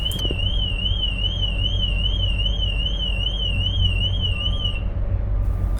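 A Mini's car alarm blares nearby on the Isle of Wight with a fast warbling tone, sounding continuously for about five seconds before stopping, over low background rumble.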